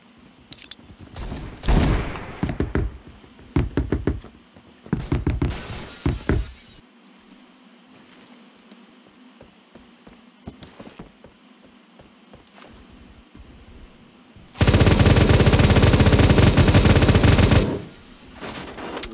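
Gunfire in the Roblox shooter Phantom Forces: clusters of sharp pistol shots early on, a few isolated cracks in a quieter middle stretch, then a loud sustained burst of rapid automatic fire near the end, with no talking.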